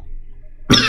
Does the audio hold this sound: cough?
yes